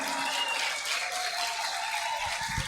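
A large audience claps loudly and steadily at a gathering, a dense continuous wash of applause lasting the whole stretch with no talk over it.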